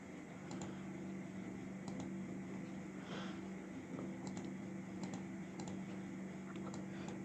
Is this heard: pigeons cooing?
no